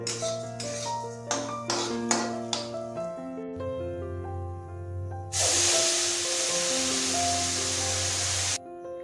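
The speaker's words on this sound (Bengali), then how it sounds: "এবার এর মধ্যে দিয়ে দেবো গরম জল" Hot water poured into fried rice in a pan for Basanti pulao, a loud steady hissing sizzle bursting in midway and running several seconds over earlier clatter and background music, no talking.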